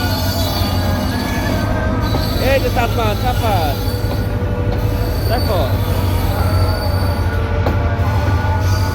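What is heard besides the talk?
two trains passing near Dhaka, one leaving and one arriving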